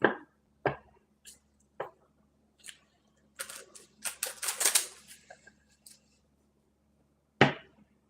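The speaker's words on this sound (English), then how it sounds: "You see how smooth this card shuffling today?" A deck of playing cards is shuffled by hand, crisp riffling bursts and sharp snaps in an uneven rhythm, close and clear with quiet gaps between.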